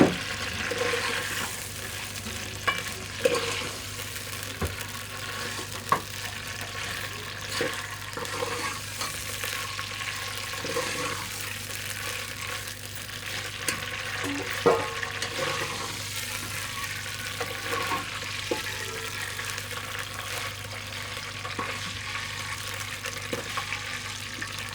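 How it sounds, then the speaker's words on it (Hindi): Vermicelli fries in hot ghee for sheer khurma, a soft, even hiss that runs on steadily with a few faint clicks over a low background hum, fairly quiet and with no talking. "घी हमारा गर्म हो गया है, सेवइयाँ इसमें डाल देते हैं फ्राई होने के लिए।"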